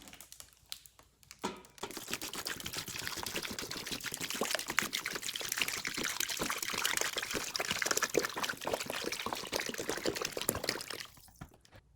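A gallon of water is poured over chicken in a pot for bone broth, a continuous splashing, gushing stream lasting about ten seconds at close range before trailing off.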